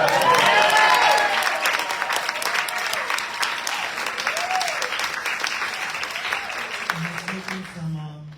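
An audience at an award ceremony claps and cheers loudly, strongest at the start and gradually thinning out, with a voice speaking near the end as the applause fades.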